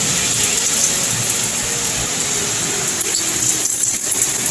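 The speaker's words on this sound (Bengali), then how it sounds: "এই জমজমিয়ে বৃষ্টি নেমে গেল, বৃষ্টি নেমে গেল" Heavy rain pouring down in the evening, a steady, loud broadband hiss of water that fills the whole clip without pause, with no voices over it.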